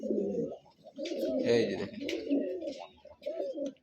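A male fancy pigeon coos in rolling, repeated phrases up close, with brief pauses between calls and someone speaking briefly over it.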